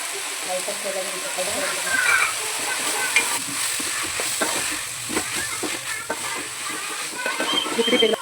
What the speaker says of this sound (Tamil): இப்போ நம்ம இதை கிளறியாச்சு